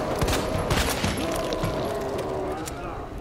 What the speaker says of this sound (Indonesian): Kita akan tembak di bahagian mata, di bahagian mata semua kita akan tembak